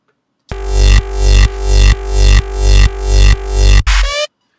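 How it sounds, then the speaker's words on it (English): A deep, bass-heavy synth plays alone, seven pulsing notes that swell and cut off in a steady rhythm, ending with a short buzzy bleep. "you got a lot of bass going on in that synth"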